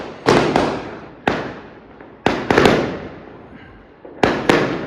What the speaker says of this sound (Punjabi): ਦੇਖੋ ਬਾਹਰ ਪਟਾਕੇ ਚਲੇ ਜਾਂਦੇ